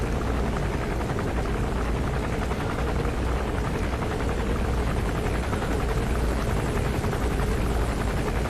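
An enemy gunship helicopter in Metal Gear Solid 5 thunders close and loud, its rotor throbbing in a dense, continuous beat with a whining turbine layered over it, and no one speaks.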